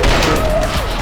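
Fire shotgun blasts in the video game Trepang2 form a loud, dense volley of booming shots packed into about a second, with a slight voice.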